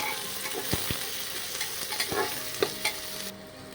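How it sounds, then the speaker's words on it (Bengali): Onions frying in a pan for a quick pressure-cooker chicken curry, a soft steady sizzle broken by several sharp clinks and scrapes of a spoon stirring, with no voices. "পেঁয়াজটা একটু লাল করে ভাজবো"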